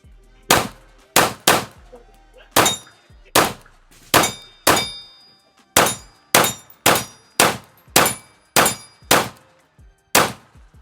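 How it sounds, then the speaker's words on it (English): Pistol shots from a Palmetto State Armory Dagger Micro striking steel targets, fifteen loud, sharp reports fired in quick, uneven bursts, each ending in a ringing metallic clang, no voices. "let's just go on ahead and get some more rounds down range here with the Dagger Micro"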